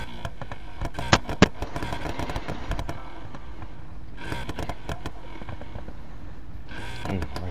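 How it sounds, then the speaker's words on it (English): A drag car in a racing game, Need for Speed Heat, revs with harsh exhaust crackles and pops, in bursts with sharp backfire snaps, then rising roars that fade between throttle blips. "let me hit that exhaust note real quick, Dave."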